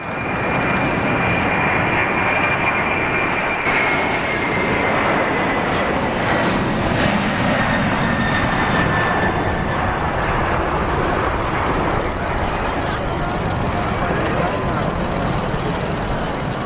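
A large jet airliner roars steadily, loud and sustained, with a faint whine drifting across it, while a voice narrates over the engine noise.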